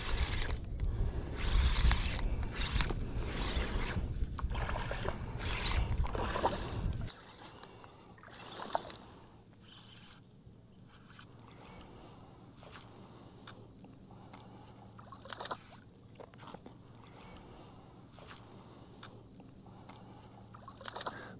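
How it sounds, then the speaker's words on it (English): A boat passes on the water near a fishing spot, its engine rumbling loudly at first, then dropping to a faint, distant hum with scattered clicks and knocks. "Gotta wait for this boat to go by because I know that's a striper guide right there"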